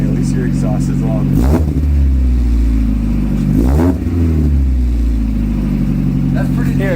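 A Mazda Miata fitted with a new exhaust idles with a loud rumble, then revs sharply twice, rising and falling each time. Voices are heard over the engine.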